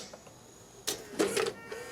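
Motorised mechanism of a Sharp VC 3300 VCR whirring and clunking as it engages: a brief burst of mechanical noise, then a louder grinding stretch of about a third of a second, close and moderately loud in a quiet room.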